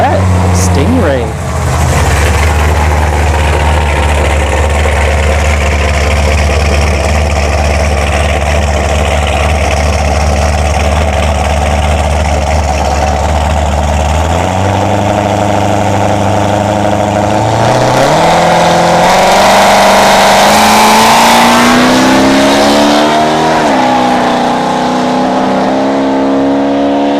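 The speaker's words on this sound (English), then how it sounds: "Ooh, a C3 Corvette Stingray." C3 Corvette Stingray at a dragstrip, idling with a deep steady rumble before the engine revs up loudly and launches, under a commentator's voice.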